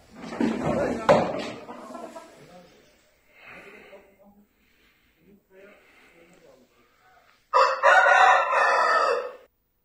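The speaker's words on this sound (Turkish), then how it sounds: "Mekanda dövüşte kullanılan 5 horoz ile 2 tavuk ele geçirildi." Roosters seized from a cockfighting venue crow and chickens cluck in short bursts, ending with a loud, close crow, while people talk in between.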